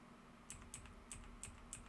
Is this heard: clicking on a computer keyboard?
yes